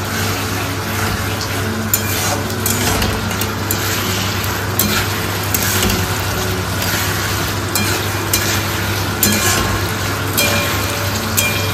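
Spices frying and being stirred in a pan with potatoes for a Bengali home-cooked dish, a steady close sizzle with scraping stir strokes running throughout, no talk.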